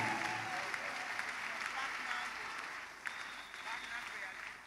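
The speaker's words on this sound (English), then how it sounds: "If you are clapping for Jesus, I believe you can clap louder than your neighbor." A church congregation claps for Jesus during a prophetic service, a continuous dense patter of many hands heard at a moderate distance, fairly quiet and steady, with faint voices mixed in.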